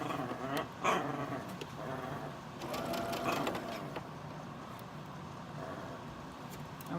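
A domestic sewing machine stitches steadily through quilting fabric for a Halloween sew-along project, a continuous whirring drone close by with slight swells, no talking over it.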